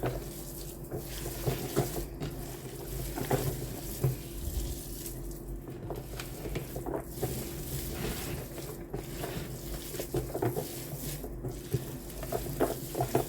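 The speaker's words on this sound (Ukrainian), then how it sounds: "Перемішую" Cabbage roll filling is stirred in a pot in steady, soft, wet scraping strokes, repeated every second or so, close up under a low kitchen hum, with no voices.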